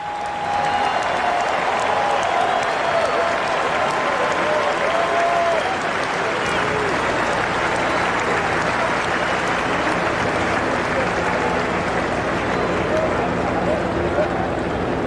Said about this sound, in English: how about a big round of applause for the people who built this magnificent ballpark?